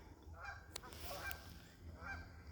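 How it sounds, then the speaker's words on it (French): Geese honk a few times at a distance in Yamaska National Park, faint nasal calls spaced apart over quiet outdoor background. "Il y a plein d'oies"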